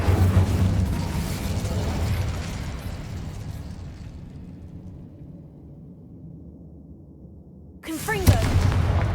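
A roaring fire spell from Hogwarts Legacy, a broad rushing blast that swells loudly, fades over several seconds, then gives way to another sharp burst, with a voice speaking over the start.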